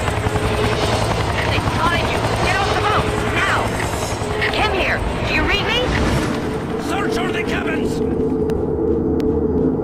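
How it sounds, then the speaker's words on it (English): Loud helicopter rotor noise in the video game XIII fills the scene with rumbling mechanical layers and scattered bursts, while voices talk underneath. "oh shit, the helicopter"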